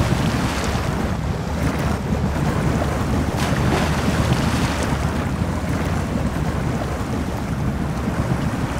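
Off-road vehicle, a Mahindra Thar in the SnowRunner video game, pushing through a mix of water and mud, with a steady rushing, churning wash of sound throughout and no speech.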